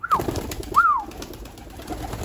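Young pigeons or doves settling into a new coop give two short, close cooing calls, each a brief rising-falling note about half a second apart, over a quiet background.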